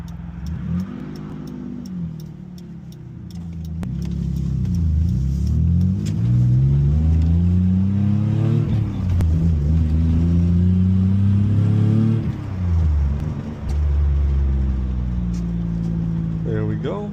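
A 1993 Ford Taurus SHO engine runs close by, its rumble swelling into several rising and falling revs, one held high for a few seconds, while a person talks over it.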